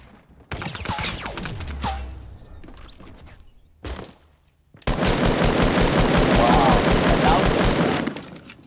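Rapid automatic gunfire bursts from the Fortnite video game, Season 5, loud and sustained with short pauses and a long dense volley at the end, mixed with game effects and a voice talking and laughing over it.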